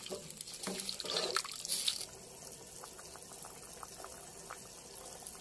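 Sweet and sour sauce simmering in a cooking pot, faint soft bubbling and liquid sounds, a bit busier at first then settling into a quiet steady boil with no talk.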